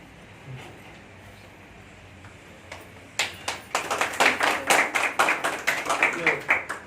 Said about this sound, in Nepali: मैले एकचोटि पहिल्यै बजेको तालीको खुब ख्याल गरेको छु